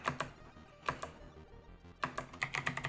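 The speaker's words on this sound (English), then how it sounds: "if you type add user, this is where you type Bob builder" Typing on a computer keyboard while entering commands, quiet nearby clicking in short irregular bursts with a brief pause in the middle, no talking.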